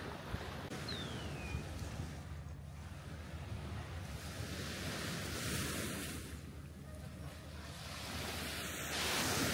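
Waves wash steadily onto a beach at Koh Chang, a continuous broad surf roar with some wind noise on the microphone and no talking.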